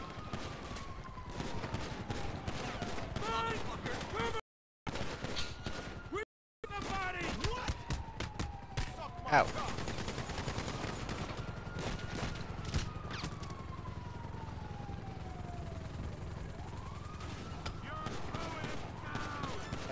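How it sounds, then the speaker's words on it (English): GTA V Online gunfire crackles as repeated sharp shots and bursts scattered throughout, mixed with a whining engine-like tone and someone talking over the action. "Oh, he's gonna shoot me."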